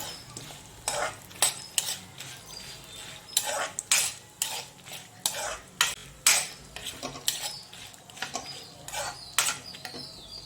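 Almonds roasting slowly in a pan on a low flame, a utensil scraping and clinking against the pan in irregular bursts of stirring, with quiet gaps in between.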